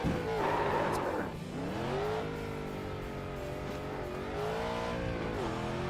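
A race car engine in the iRacing sim rises and falls through gear changes, revving high, dropping, then climbing again in a steady whine, loud and close with faint tire squeal.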